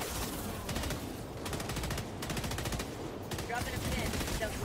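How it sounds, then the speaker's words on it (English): A turret machine gun fires in Helldivers 2, sustained rapid bursts of gunfire, loud and close, with brief gaps between volleys and game battle noise underneath. "he's using the turret"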